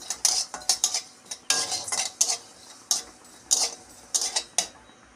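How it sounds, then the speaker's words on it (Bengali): Black cumin seeds are tossed and stirred in a hot, empty wok, with repeated crisp metallic scrapes and clinks from the spatula arriving in quick bursts, close and fairly loud, with no talk. "চট করে কালো জিরেগুলো আমি ভেজে ফেলবো খালি কড়াইতে"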